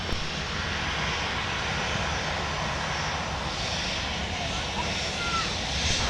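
An airliner taxiing at Minneapolis–Saint Paul airport in winter gives off a steady, loud engine roar that continues without a break, with voices talking over it.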